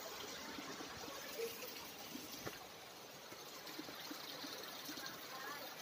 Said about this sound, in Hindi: पानी कलकल करता हुआ।